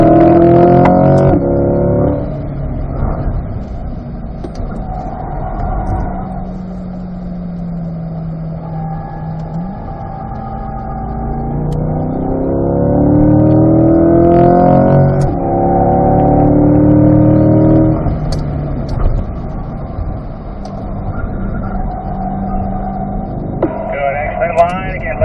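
A C8 Corvette on the Spring Mountain Raceway circuit swells from a steady drone into a rising engine roar as it accelerates out of a corner, with an instructor's voice talking over the engine throughout.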